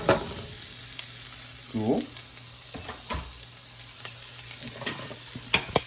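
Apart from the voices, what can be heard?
chopped onions frying in a pan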